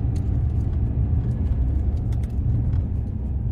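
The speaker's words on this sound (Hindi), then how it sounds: "टॉप गेयर में चला रहे हैं अच्छी पेस पकड़ रही है गाड़ी अच्छा रेव कर रही है" A Maruti Alto 800's small petrol engine drones in top gear from inside the cabin, a steady low rumble with a few faint clicks and rattles over it.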